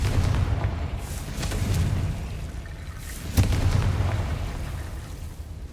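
Confringo spell blasts in Hogwarts Legacy: several loud booming explosions with a sharp, punchy burst near the middle, each trailing off in a rumbling decay, no talking over them.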